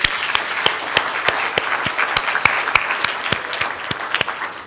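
An awards ceremony crowd applauds its sponsors, many hands clapping close and loud with sharp individual claps punching through a rhythmic, steady patter that fades slightly at the end.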